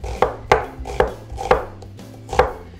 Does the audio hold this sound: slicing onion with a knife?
yes